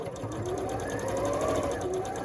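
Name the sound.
sewing machine stitching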